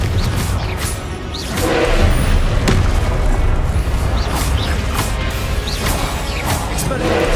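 Confringo blasting-spell explosions in the video game Hogwarts Legacy, a steady loud barrage of booming blasts, crashes and whooshing spell casts layered over one another.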